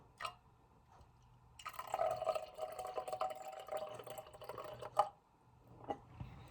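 Colored liquid tilted from a cup and poured slowly into a jar for a layered rainbow, giving a soft, steady trickle and splash with a few brief drips, close by and quiet, with no talking.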